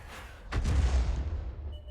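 A 105 mm leFH18B2 artillery howitzer in War Thunder fires once, a single heavy boom with a deep rumbling tail that fades over the following second.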